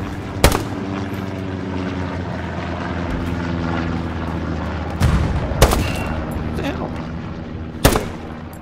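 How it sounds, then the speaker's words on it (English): Gunshots in a multiplayer shooter video game, three or four sharp, separate reports spaced a couple of seconds apart over a steady droning engine hum, loud and close. "Shot the guy right in the chest,"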